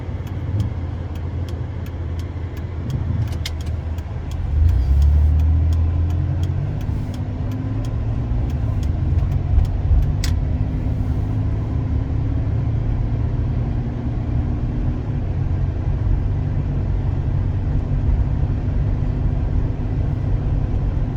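A 2001 Saturn L300's V6 engine hums steadily from inside the cabin, with low rumbling road noise and a few faint clicks, no talking.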